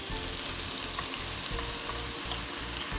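Cabbage stir-fried in a pan with a two-layer sauce, crackling in a steady sizzle as it is tossed and mixed, with soft scraping strokes recurring throughout and no talk over it.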